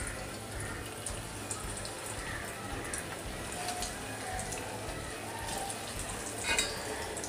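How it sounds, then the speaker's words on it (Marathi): Manchurian rice balls deep-frying in hot oil over a low flame, giving a steady, fine crackling sizzle throughout, fairly close and even in level, with no talking. "तर आता हे राईस बॉल्स आपण ह्याच्यामध्ये मस्त असे तळून घेऊयात."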